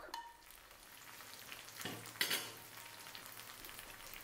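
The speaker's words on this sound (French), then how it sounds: "maintenant les petites crevettes séchées et le tofu. Mélangeons durant 1 minute" Dried shrimp and tofu stir-fried in a wok for pad thai give a soft, steady sizzle with a few brief scraping stirs, faint and without speech.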